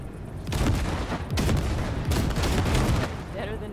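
Basilisk cargo-ship guns in Cyberpunk 2077 blasting wrecks: a dense, sustained barrage of loud, rapid gunfire bursts lasting several seconds, with brief lulls and a voice speaking under the din.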